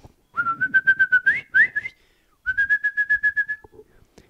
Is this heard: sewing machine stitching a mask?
no